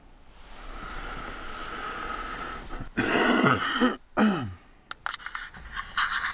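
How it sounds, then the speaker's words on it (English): A sudden, close cough with throat-clearing bursts out midway inside a hearse overnight, breaking a quiet, hissing background before fading into softer rustling. "I coughed on that one."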